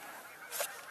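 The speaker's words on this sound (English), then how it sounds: "we were definitely hearing tundra swans" A tundra swan gives a single brief honking call, fairly faint and distant, over quiet outdoor background.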